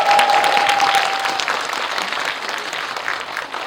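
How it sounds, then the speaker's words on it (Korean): Audience applause for two actors at a Korean film screening Q&A, a dense, steady wash of clapping from a full hall that fades gradually toward the end, with no voices over it. "두 분께 박수 한번 부탁드릴게요"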